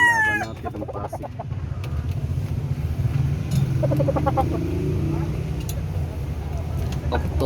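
Roosters crow and cluck nearby, with one sharp crow at the start and more calls and clucks through the middle, while someone talks over them and a car hums in the background.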